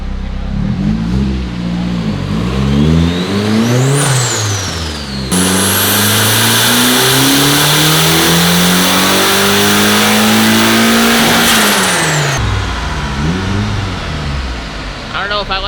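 A boosted car engine on a dyno revs hard through a long pull, its pitch climbing and falling in sweeping waves, loud and close, with a sharp whine riding above the roar before it drops back.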